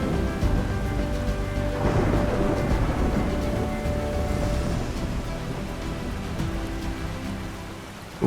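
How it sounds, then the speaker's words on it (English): Heavy dry-season thunderstorm rain over the Liwa Plain savanna in Zambia, a dense, steady hiss and patter of falling water with a low rumbling undertone throughout, fairly loud and without voices. "When thunderstorms shatter the dry season, Liwa Plain in Zambia transforms."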